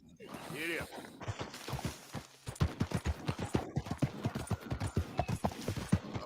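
Horse hooves clip-clop at a steady, fast rhythm in Red Dead Redemption 2, close and continuous, while someone talks over the gait throughout.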